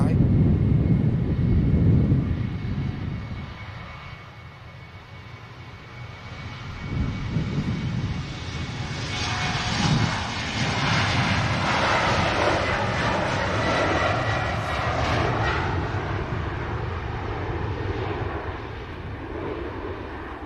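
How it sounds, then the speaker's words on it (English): A Finnair airliner taking off at Manchester Airport, its engine roar loud and steady before swelling into a broad rushing noise as it climbs, with wind buffeting the microphone. "Nice gradual takeoff from the Finnair."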